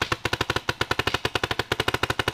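A 2013 Proto Reflex Rail paintball marker fires a rapid, steady string of about two dozen sharp pops, loud and close, during an outdoor paintball game.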